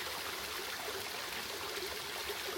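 Cold hillside stream water flows steadily nearby, a continuous soft rushing and trickling with no voices.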